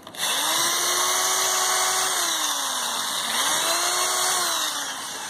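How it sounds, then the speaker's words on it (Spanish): A power drill bores pilot holes in wood, its motor whine rising and dipping in pitch as it bites, close and steady through two drilling passes. "igual le hacemos dos hoyos guías y le ponemos sus dos tornillos"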